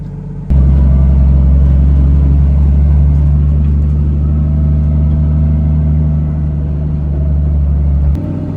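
A Volvo 240 engine with a damaged, struggling turbo idles loudly close by, a steady low rumble with a droning hum that holds for several seconds before easing off near the end.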